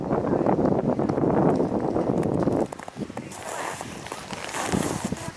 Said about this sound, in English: it is very, very windy, so you're probably going to get a lot of wind noise